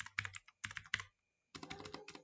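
Fingers typing a git branch command on a computer keyboard, three quick bursts of clattering keystrokes, a short pause, then another run of rapid taps, close and crisp with no talking.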